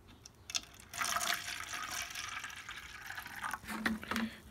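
A 50% vinegar and water solution poured into a container to submerge a lawn mower part, a steady close splashing pour lasting several seconds with a few gurgles at the end.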